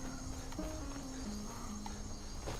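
Horse hooves clip-clop in a steady walking rhythm during a ride in the video game Skyrim, with faint tonal music in the background and no talking.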